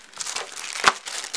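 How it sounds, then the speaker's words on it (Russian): Plastic packaging bag holding a micro USB cable crinkles as it is unpacked from an Aliexpress parcel for a Lenovo A916 phone, with soft rustling and one sharper crackle near the middle, close and alone. "пакетик"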